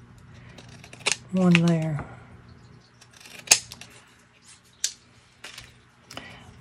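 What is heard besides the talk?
cutting paper scraps for a card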